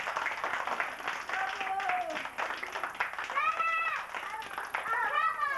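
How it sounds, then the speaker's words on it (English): A small home audience claps for a family magic routine, the scattered applause mixed with whistles and cheering voices throughout, fairly close and steady. "We can have two if you give me a big round of applause."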